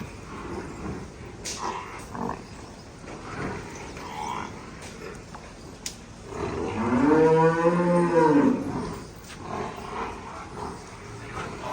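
Amid outdoor clatter and shuffling, a water buffalo lets out one deep, drawn-out low lasting a couple of seconds, fairly close.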